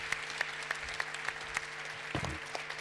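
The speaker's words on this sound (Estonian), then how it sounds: "me teeme neile veel ühe ülisuuri aplausi" A studio audience applauds a team on a stage show, heard as faint, sparse claps at a steady pace with a few louder hits standing out.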